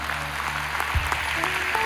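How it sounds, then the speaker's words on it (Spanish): A church congregation applauds at the end of a service, a short burst of steady, moderately loud clapping over a low background hum. "denle un aplauso al Señor"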